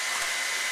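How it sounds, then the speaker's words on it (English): Hair dryer blowing steadily beside a ping pong ball track, a continuous close airy rush with a mid-range whine, alone throughout the short moment. "Hair dryer should push it down here, hopefully."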